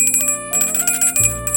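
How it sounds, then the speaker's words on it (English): A small vintage bell rings repeatedly with bright, sustained metallic tones, close and fairly loud, alone without speech. "look at that, it's a bell"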